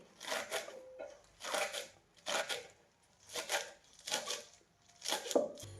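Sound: chopping fenugreek leaves finely with a knife

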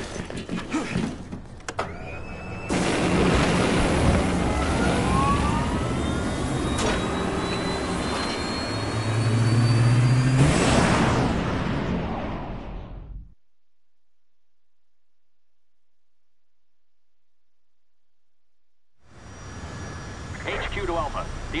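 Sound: aircraft jet engine starting up in the video game Resident Evil 6

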